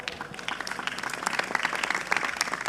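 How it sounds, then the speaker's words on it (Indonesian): Applause from a gathering of children and their parents at an Islamic religious talk, dense steady clapping from a crowd filling the room, fairly loud and continuous throughout. "Tepuk tangan dulu untuk anak-anak kita."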